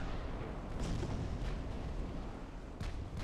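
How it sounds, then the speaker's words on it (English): Naval gunfire from cruisers in the video game Ultimate Admiral: Dreadnoughts, a dense continuous rumble of distant cannon booms and explosions layered together, with a few sharper bursts standing out. "We are taking fire from that heavy cruiser and that battle cruiser."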